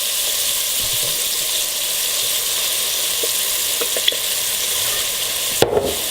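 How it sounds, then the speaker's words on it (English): Beef stroganoff sauce with beef broth and Worcestershire sizzling steadily in a pan as it comes up to a boil, a continuous close hiss with a few faint stirring clinks and no talking. "We're just going to let that come to a little bit of a boil there."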